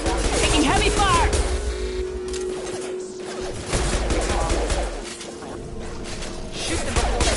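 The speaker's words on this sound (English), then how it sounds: "Taking heavy fire!" Heavy gunfire during a Mass Effect 2 battle, dense crackling volleys and impacts mixed with game music and voices speaking over the combat.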